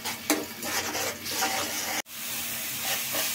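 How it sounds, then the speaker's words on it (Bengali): Ground spices (chili, coriander and turmeric powder) fry in oil in a pan, a close sizzle with scraping stir strokes, briefly cut off midway before the hiss resumes steadily. "এখন এটা আমি ভালো মতন কষিয়ে নেব"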